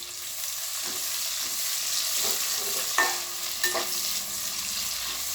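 Long-sliced big onions sautéing in oil for chicken biryani, a steady close sizzle and frying hiss with occasional scraping stirs of a spatula against the pan.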